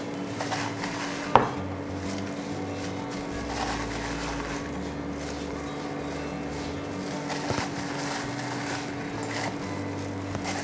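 Peanut masala being transferred onto a plate, with faint scraping and light clinks of a spoon against dishes, including one sharper knock, under steady background music.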